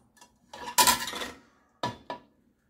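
Plates and dishes clink and clatter as they are taken out of a Bosch dishwasher, a loud cluster of knocks followed by two shorter clinks close by.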